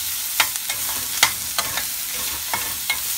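Carrots sauté in a pan for a raw papaya curry as a spoon turns them repeatedly, producing irregular scraping clacks over a soft, continuous sizzle.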